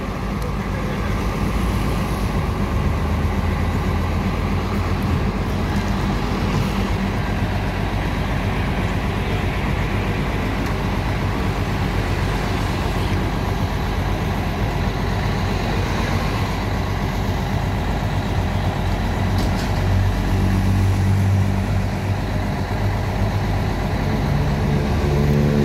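The ALS 270 bus engine drones steadily from inside the moving vehicle, layered with continuous rumbling road noise at a constant loud level throughout.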